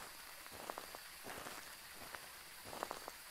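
Steady rain falls over the campsite map in Phasmophobia, a constant soft hiss with scattered brief droplet taps, quiet and even throughout with no talking.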